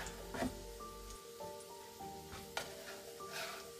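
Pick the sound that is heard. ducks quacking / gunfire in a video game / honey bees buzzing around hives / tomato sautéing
tomato sautéing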